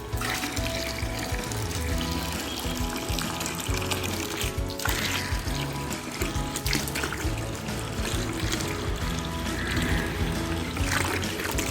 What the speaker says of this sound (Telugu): ఇప్పుడు వీటిని నీళ్ళు వేసి డైల్యూట్ చేస్తాను అన్నమాట